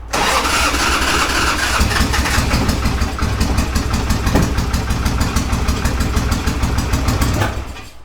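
Harley-Davidson Ironhead Sportster with a Cycle Electric generator firing up, then settling into a loud, continuous rumbling idle with a rapid throbbing beat, close by, before it cuts off near the end.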